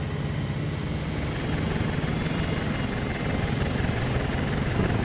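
A Black Hawk helicopter in the video game ArmA 2 DayZ, its rotor and engine making a steady, loud, continuous thrumming drone throughout with no voices.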